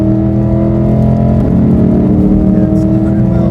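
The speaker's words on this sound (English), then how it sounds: "Honestly, the perfect S550 exhaust note." Ford S550 Mustang GT with active exhaust accelerating hard on a highway, a loud, close, steady engine roar that rises slightly in pitch midway, with no one talking over it.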